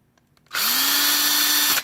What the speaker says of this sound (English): I just put a flat blade screwdriver on my drill.